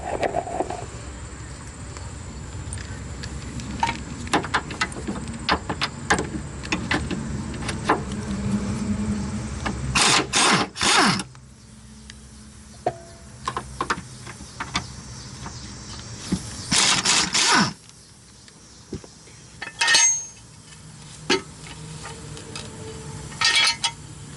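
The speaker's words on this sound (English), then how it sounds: "remove these two bolts that hold the bracket on." Removing rear brake bracket bolts on an SRT4 brings bursts of ratchet and tool noise, metallic clicks and scraping, with several loud rattling pulses and quieter gaps between them.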